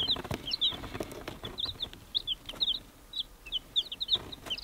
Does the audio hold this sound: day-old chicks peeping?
yes